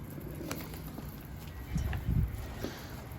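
Pigeons coo softly in a few low, brief bursts, fairly near, over a faint outdoor background with no talk.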